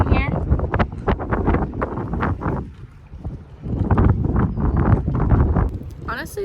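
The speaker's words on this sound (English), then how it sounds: "It's so windy down here." Wind gusts buffet the microphone outdoors beneath a bridge, rumbling in irregular surges throughout while people talk over it nearly the whole time.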